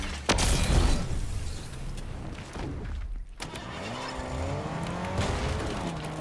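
A car being driven in a video game, with a loud engine and road noise throughout, revving and shifting pitch, plus a brief dip partway through, with no talk over it.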